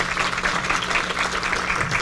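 Audience applause at the inauguration of a forum on domestic work, a steady patter of many hands clapping at moderate loudness, sustained with no pause and no voices over it.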